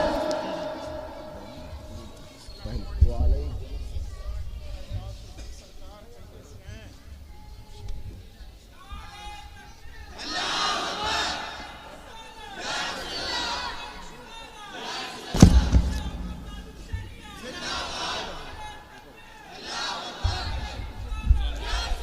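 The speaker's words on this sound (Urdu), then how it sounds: "علماء اہل سنت، نعرے تکبیر، نعرے رسالت۔" At a Sunni religious gathering in Pakistan or India, a leader calls out slogans and a large crowd roars back in repeated, rhythmic chanted responses, loud and echoing, with a voice leading between the waves.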